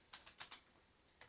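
Quick, light taps on a computer keyboard, a short irregular burst of keystrokes, close and quiet.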